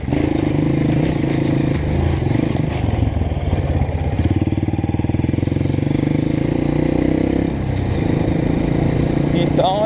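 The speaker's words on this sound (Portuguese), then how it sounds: "A moto tá meio ruim pra pegar." Honda CRF 230 motorcycle struggling to start, with repeated cranking and rough, sputtering engine bursts that fail to catch cleanly, accompanied by clattering and scraping noises outdoors near running water.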